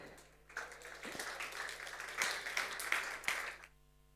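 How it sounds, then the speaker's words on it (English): Conference audience at a festival stage applauds, a moderate burst of clapping that swells, holds for a few seconds with some louder claps, then stops abruptly. "A round of applause, please."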